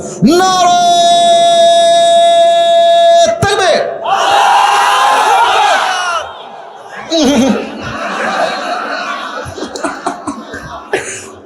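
A large crowd of married men loudly chanting takbir at a religious gathering, one long drawn-out shout in unison followed by further ragged cheering and laughter.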